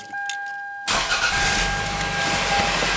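A Toyota Camry engine cranks and catches after about a second of near silence, then settles into a steady, close idle. The car has a newly installed timing belt.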